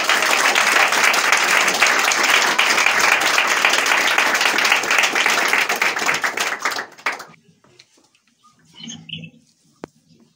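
A church congregation applauding, dense sustained clapping for about seven seconds that stops abruptly, followed by near silence with a brief faint voice.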